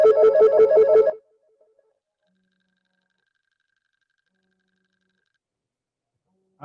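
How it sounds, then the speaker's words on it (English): Telephone ringtone with a rapid warbling trill, a single loud burst at the start followed by silence, then a brief return of the ring at the very end. "phone is ringing."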